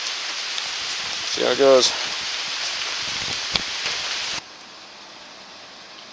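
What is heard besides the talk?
rain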